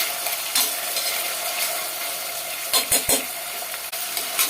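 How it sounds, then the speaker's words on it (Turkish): Onions sauté in a pan under a constant bright hiss, with a few scraping knocks from a spoon stirring them near the end. "Şimdi başlayalım soğanlarımızı kavurmaya. Şöyle kavuruyorum."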